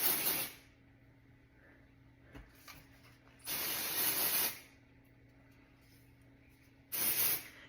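Virtue dry shampoo aerosol is sprayed onto hair extensions in three close, loud hissing bursts of about a second each, separated by quieter pauses with faint handling sounds.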